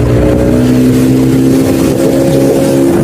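Speedboat ride at a holiday park, a loud, close outboard engine drone with steady tonal hum and rushing water noise throughout, slight rise and fall in pitch, no talking.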